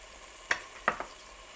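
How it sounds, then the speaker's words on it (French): A spoon stirs spices and ingredients together in a pan, giving a few quiet scrapes and taps in quick succession against a faint background hush. "Et je mélange le tout"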